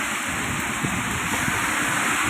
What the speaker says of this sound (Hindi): मदीना मुनव्वरा का बहुत तेज़ बारिश हो रही है।